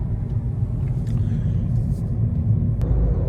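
Steady low road rumble of slow northbound traffic on the I-35 highway near Fort Worth, heard from inside a car, continuous and fairly loud.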